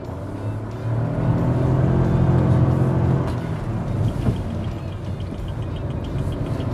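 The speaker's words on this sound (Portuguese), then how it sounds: "Vou fazer um teste de frenagem de emergência." A Caoa Chery Tiggo 3X SUV under an emergency braking test on a straight road, with a steady engine and road rumble that swells as it speeds up and then eases off as it slows, heard from inside the cabin.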